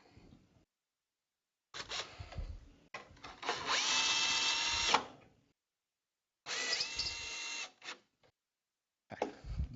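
Power drill driving fixings into an awning guide rod, several separate bursts of high whirring, one sustained run around the middle, with silent pauses between.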